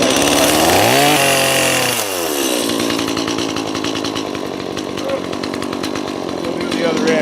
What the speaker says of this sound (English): cut an angle on this diagonal so that it butts up against this lower crossbeam